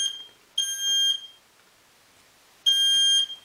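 A household smoke detector alarm sounds two loud, shrill electronic bursts, each lasting about half a second, separated by a pause and heard alone and close up.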